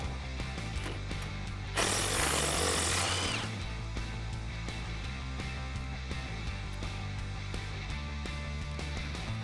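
A 10mm socket tool loosens a bolt on a 2005-2021 Toyota Tacoma front suspension during a lift install. A brief loud mechanical burst is followed by a run of quick, regular ratcheting clicks.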